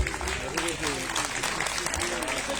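Steady applause from a crowd at an ashram ground-breaking ceremony, dense clapping that continues for the whole stretch with voices mixed in underneath.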